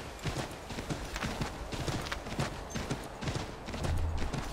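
A horse gallops in the video game Assassin's Creed 3: rapid, rhythmic hoof clip-clops continue steadily, close and fairly loud, with an occasional snort-like rumble near the end.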